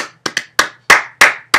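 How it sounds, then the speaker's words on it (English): Bare hands clap a name out in Morse code: seven sharp, close, loud claps in an uneven pattern of short and longer gaps, alone in a quiet room. "As a thank you, I shall clap her name out in Morse code."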